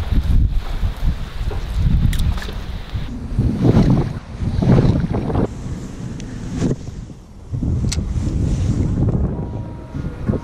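Wind gusts over a boat while fishing for trout. It makes a loud, continuous rushing and buffeting against the microphone in uneven surges throughout, with no talk.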